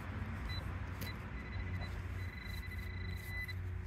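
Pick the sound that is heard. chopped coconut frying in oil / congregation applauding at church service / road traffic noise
road traffic noise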